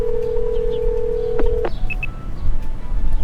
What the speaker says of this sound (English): I call him, but the phone rings for a while before it connects